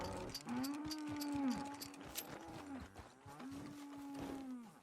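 Cattle lowing in the Red Dead Online game world: two long, drawn-out moos, near and loud over a steady farmyard ambience, with no talking.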